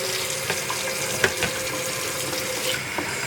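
Water runs steadily from a kitchen tap into a pot during home cooking, a continuous hiss with a few faint clinks, and no one speaks.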